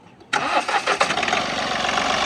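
A Mahindra Bolero's engine cranks and catches abruptly, then settles into a close, loud, rough idle with a few uneven surges just after starting.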